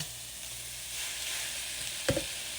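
Sirloin steak sizzles steadily in a hot pan for taco filling, a continuous frying hiss with a brief clatter near the end.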